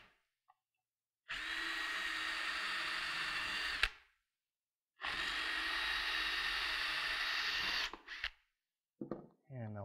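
A power drill bores holes through a Kydex holster in two long, steady, whining bursts separated by a pause, followed by short handling clatter close by.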